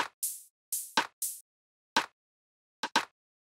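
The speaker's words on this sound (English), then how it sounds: "the next thing we have here is this little rim slash clap thing" Deep house rim shot and clap samples play in an irregular sequence of short, crisp hits, some bright and airy, some snappier, each isolated by clean silence.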